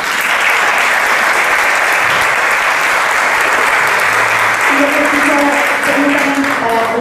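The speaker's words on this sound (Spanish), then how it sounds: "Les pido un aplauso, por favor." Loud, sustained applause from a large crowd at a panel discussion, continuous and even for several seconds, with faint voices and a few tones near the end.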